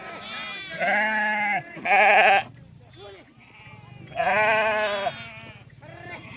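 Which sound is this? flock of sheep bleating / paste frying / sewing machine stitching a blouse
flock of sheep bleating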